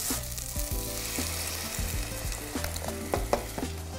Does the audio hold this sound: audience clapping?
no